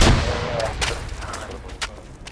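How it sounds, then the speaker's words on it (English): Gunfire during a military field exercise for a heliborne assault, a loud opening burst followed by several sharp, scattered shots at mid distance over a steady rumble of wind and background noise. "Direct fire, take cover."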